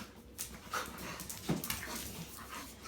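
Dogo Argentino dogs, a young female puppy and a 13-month-old male, play nearby with quick panting breaths, short whimpers and small yips in uneven bursts, fairly quiet and without talk.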